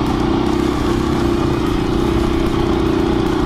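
A 2021 KTM 350 EXC-F dirt bike engine runs steadily and loud throughout, a continuous close-up drone with no break and no talk.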